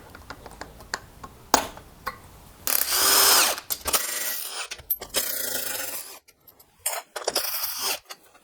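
A power tool taking bolts off a Cub Cadet snowblower cover, heard in several close, loud bursts of whirring and rattling of varying length, with gaps of quiet and light handling noise between them.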